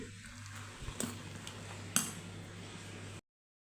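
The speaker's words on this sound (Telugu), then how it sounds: "దీన్నంతా ఒకసారి బాగా కలుపుకొని" A spoon works through fermented idli batter in a bowl, giving soft scraping and a few sharp metallic clinks against the rim, close and quiet, before the sound cuts off.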